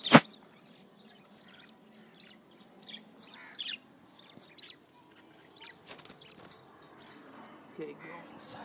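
Pet parrots chirp in short, scattered bursts, some sharp and near and others faint, with quiet pauses between calls and low voices in the background.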